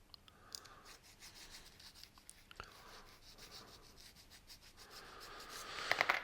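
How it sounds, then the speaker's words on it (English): Fine side of a hand file rasping across an aluminium drip tip for a 510 fit, a quiet close scratchy rubbing with short irregular strokes that grows a little louder toward the end. "I'll just take a tiny bit more off with the fine side of the file"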